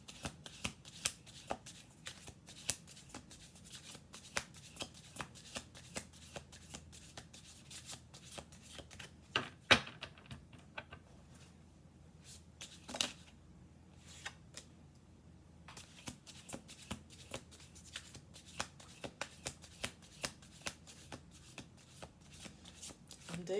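A deck of cards is shuffled again and again in quick riffling bursts during a card reading, close and crisp, with brief pauses between the shuffles.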